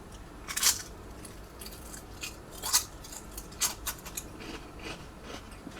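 Someone eats Ruffles potato chips with Doritos Cool Ranch flavoring, producing faint, scattered crunches at close range with several sharper bites over a quiet background.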